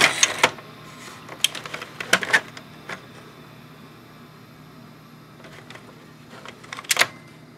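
Eject mechanism of a Sony SLV-595HF VCR with reels failing to turn, a series of sharp close plastic clicks and clunks in uneven bursts, with a quiet mechanical hum between them.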